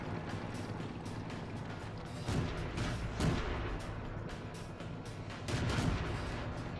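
A tank cannon fires in the World of Tanks video game. Three or four heavy booming shots land over a steady mechanical engine rumble, spaced a second or more apart, at moderate loudness.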